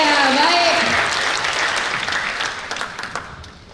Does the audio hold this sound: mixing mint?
no